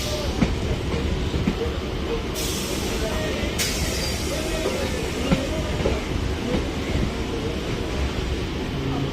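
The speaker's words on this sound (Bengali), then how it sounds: "এই যে আমরা এখন ঢুকছি হচ্ছে শিয়ালদা স্টেশনে, আর এই যে এটা বেরিয়ে যাচ্ছে হচ্ছে এক্সপ্রেস ট্রেন।" Suburban train pulling into Sealdah station, a dense rumble of wheels and carriage rattle with rhythmic clacking and a brief high brake hiss, continuous and close from on board.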